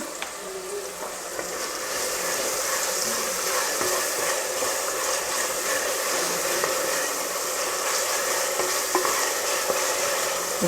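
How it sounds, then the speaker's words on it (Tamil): Garlic, ginger and green chillies frying in hot oil in a pan, a loud close steady sizzle that carries on throughout, with light stirring sounds and no talking. "கொஞ்சம் எண்ணெயில் பொரியட்டும் ஃப்ரெண்ட்ஸ்"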